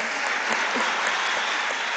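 An audience at a critical-thinking forum in Fortaleza claps together for Eduardo Suplicy, a brief, even burst of applause heard alone.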